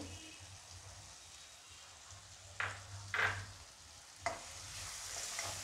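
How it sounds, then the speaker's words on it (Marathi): A pan of coriander bhaji with tomato and green peas being sautéed: a low steady hum and faint sizzle, broken by three short scraping stirs of a spoon against the pan; no speech. "हेही परतून घ्यायचं आहे। वाटाण्याचे दाणे,"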